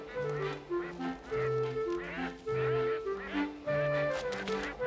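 A flock of geese honks in repeated, overlapping calls in a loose rhythm as the birds head south, with some cartoon-style tonal calls, fairly close and clear.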